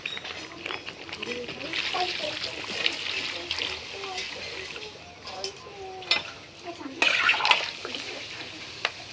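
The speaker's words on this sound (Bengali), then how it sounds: "মাংস কষা হয়ে গেছে, এবার আমি এর মধ্যে জল দিয়ে দেবো।" Water poured into a pan of browned chicken curry meat, a steady splashing, bubbling wash that runs for several seconds with a brief sharper burst of splatter near the end, close and moderately loud.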